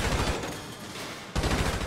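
Rapid automatic gunfire at the shooting range in GTA V, loud and close, with dense bursts of shots that break off briefly and then resume.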